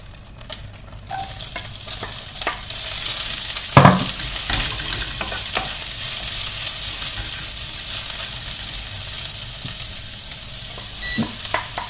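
Onions hit a thin drizzle of hot oil in a pan with pork strips for pork in oyster sauce. They fry with a loud, steady sizzle, a sharp burst near the start as they go in, and occasional scrapes of stirring.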